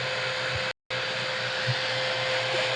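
A blower runs steadily as a constant loud whooshing hum with a steady tone, cut by a brief dropout.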